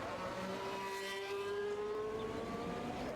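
A McLaren race car in a racing video game accelerates away onto the Hungary circuit, its engine note rising smoothly in pitch as it revs up through the gears, loud and sustained.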